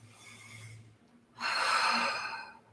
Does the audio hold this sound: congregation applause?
no